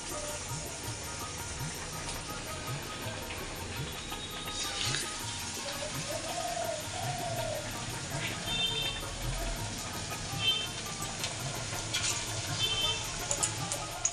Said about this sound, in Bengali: তাড়াহুড়া করে আবার এই যে কটা বড়া ভেজে দিই।